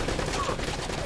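Dense bursts of gunfire in the Uncharted action game sound as a fast, continuous fusillade at moderate level for about a second.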